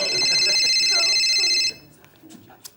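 A mobile phone's electronic ringtone trills steadily and loudly for about a second and a half, then cuts off, leaving quieter room sounds and murmured talk.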